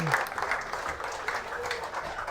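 Crowd applause at a varsity boys soccer game as a senior substitute comes onto the field, brief scattered clapping from spectators heard at moderate distance, mixed with some background chatter.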